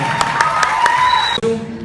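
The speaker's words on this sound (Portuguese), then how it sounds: "Uma salva de palmas para ela." An audience at a school event applauds their teacher with a few loud, evenly spaced claps over a tonal background, ending abruptly after under two seconds.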